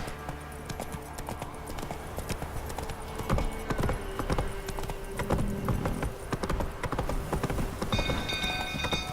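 Horse hooves clip-clopping at a gallop in the video game The Witcher 3, a steady, close rhythmic pounding over game ambience, with faint crackling and background activity.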